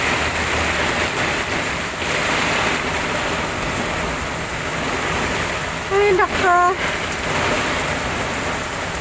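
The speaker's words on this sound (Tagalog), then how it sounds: "Lakas ng ulan na." Heavy rain pours down steadily on a roof in a loud, dense hiss, and a voice briefly exclaims partway through.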